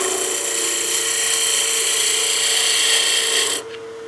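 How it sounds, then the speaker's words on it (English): A skew chisel makes a peel cut on a spinning wood blank on a lathe, forming a tenon with a loud, continuous rasping shear up close that stops abruptly near the end, leaving the lathe's lower hum. "Now we'll use our skew to throw a tenon on this end of the blank."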